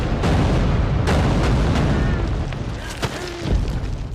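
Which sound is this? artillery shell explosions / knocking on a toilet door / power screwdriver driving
artillery shell explosions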